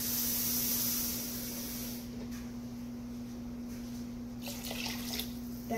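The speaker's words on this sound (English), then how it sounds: "I gotta put water in it." Tap water pours steadily into a soup pot for a steak and tortellini soup, a constant close hiss with a low hum underneath and faint clinks near the end.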